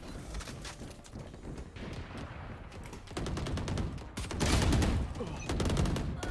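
Rapid gunfire bursts from the Valorant shooter using a Ghost skin pistol, sharp repeated cracks growing louder toward the end over dense game noise.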